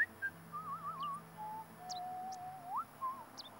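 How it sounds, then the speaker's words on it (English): Someone whistles a wavering, meandering tune outdoors in Final Fantasy X on the Mi'ihen Highroad, with faint bird-like chirps and a quiet ambient bed underneath, no talk. "Who is whistling?"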